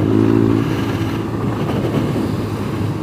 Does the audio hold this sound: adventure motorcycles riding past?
yes